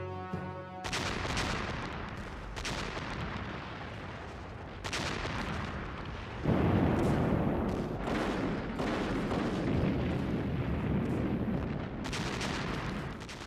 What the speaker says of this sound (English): after Hitler's invasion of the Soviet Union, the guns of the Red Army began a ferocious bombardment of German forces